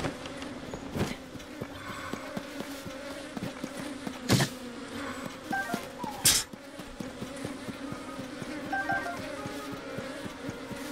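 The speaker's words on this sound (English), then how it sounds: "They're trying to attack the bees." Bees buzz steadily throughout a forest scene in the video game The Legend of Zelda: Tears of the Kingdom, a continuous insect drone with repeated soft thuds like footsteps and a couple of sharp bursts along the way.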